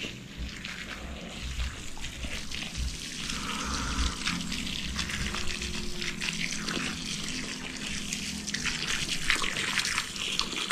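Water running from a tap into a container, a steady close rushing and splashing stream that holds constant for about ten seconds with no talk over it.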